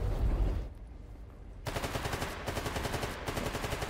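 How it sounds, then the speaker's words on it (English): Rapid gunfire in the video game S.T.A.L.K.E.R. GAMMA, fairly faint and distant-sounding, as automatic bursts rattle on steadily after a brief lull. "He's shooting at somebody up there."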